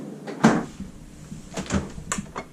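A freezer drawer at the bottom of a residential-style fridge in a 2019 Coachmen Chaparral 392MBL fifth-wheel RV slides and bumps with a firm thud, followed by a few lighter knocks and rattles close by.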